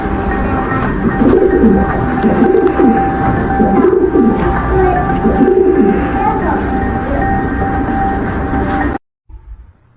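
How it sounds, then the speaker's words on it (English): A pigeon coos in a slow repeating series of soft, low, rolling calls over a steady background hum; the sound cuts out abruptly near the end. "Shining UV light on pigeon emoji bird."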